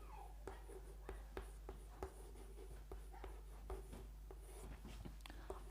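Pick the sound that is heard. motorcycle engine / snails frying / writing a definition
writing a definition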